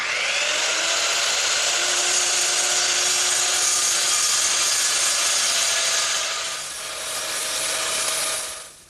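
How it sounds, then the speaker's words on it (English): Circular saw cutting through hardboard on a workbench, a loud continuous high-pitched whine that dips briefly near the end before the blade spins down. "I'm going to use my circular saw to take out that material"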